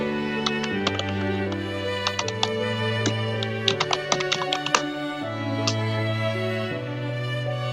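Computer keyboard typing, with sharp close key clicks coming in quick irregular bursts over a steady tonal background hum, with no voices.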